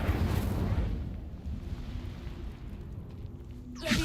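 Incendio fire spell cast in the video game Hogwarts Legacy, a loud rushing, roaring whoosh of flame that fades into a quieter low rumble before a sharp swell at the end.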